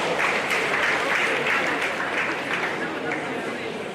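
Steady audience applause fills an induction and oath-taking ceremony, a dense, even wash of many hands clapping that holds throughout and eases slightly toward the end.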